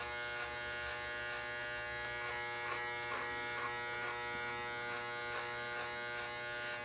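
Electric hair clippers buzz steadily and close up during a boy's haircut at home, a constant droning hum with faint rhythmic pulses as the blades move through hair, with no talking.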